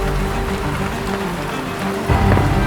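Rain falling at Lac de Pannecières during a night of carp fishing, a steady loud patter on surfaces that swells slightly near the end, with no voices.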